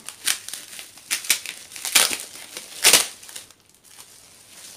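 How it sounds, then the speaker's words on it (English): Bubble wrap packaging around a diamond painting kit being squeezed and crushed by hand, several loud crinkling crunches and bursts in irregular bursts, close up, tapering into quieter rustling at the end with no talking. "And it's completely wrapped in this bubble stuff."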